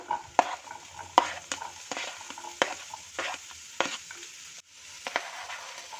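Spring onions stirred into a pan of frying onion, garlic and ginger for hot and sour vegetable soup, a soft steady sizzle broken by repeated sharp scrapes and clinks of a spoon, close and alone.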